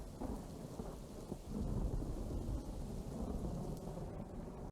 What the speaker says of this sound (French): Un petit pluie-orage.